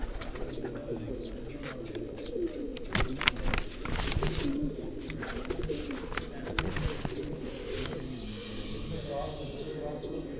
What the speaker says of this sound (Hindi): ये जो कबूतर अब आप देख रहे हैं